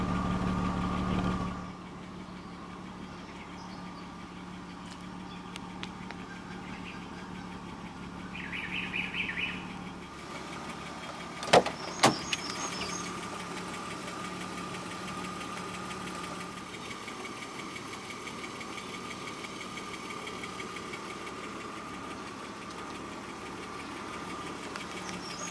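A 1995 BMW 325i E36 with dual exhausts idles steadily after start-up, a low continuous hum holding throughout, with a few brief sharper sounds near the middle and faint chirping birds outdoors.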